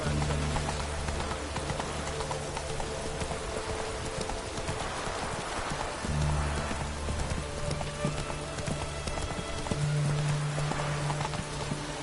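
Geralt's horse Roach gallops in The Witcher 3, with rapid, steady hoof clip-clops running throughout over a soft rain-like hiss and low ambient rumble.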